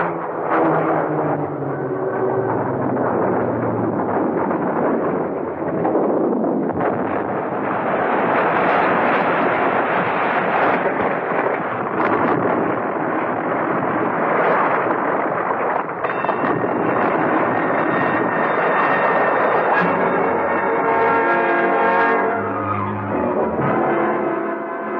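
A staged radio-drama crash of a plane: a long, roaring, rumbling effect that swells and churns with crunching, tearing bursts and grinding noise, loud and sustained throughout with no voices.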